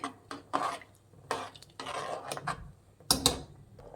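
A spoon scrapes and clinks against a metal pressure cooker pot in several short bursts, stirring tomato rice bath with coriander leaves, with brief pauses between strokes.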